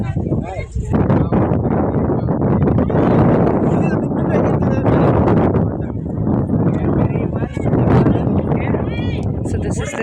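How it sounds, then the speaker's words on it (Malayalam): Wind gusting at a hilltop viewpoint, a steady heavy rumble buffeting the microphone close up, with someone speaking over it. "നല്ല കാറ്റുണ്ട്."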